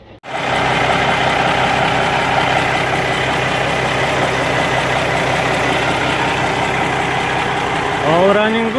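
A Cummins ISX diesel truck engine, freshly fitted with a new turbo and alternator, starts up and settles into a loud, steady idle with a constant low drone, ending in a brief rising whine.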